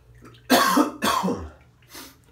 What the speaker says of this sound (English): Sometimes you just got to cough.